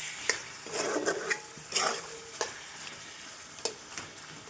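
Potatoes being sautéed with mutton curry in a pan for a kosha mutton dish, giving a close, steady sizzle with repeated sharp stirring scrapes and clicks against the pan, no talking.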